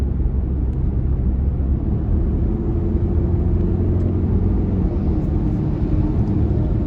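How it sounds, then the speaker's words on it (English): Steady low roar of a car accelerating hard past a large truck, a continuous loud rumble of engine and road noise lasting throughout with no gaps. "speed the fuck past this giant ass truck"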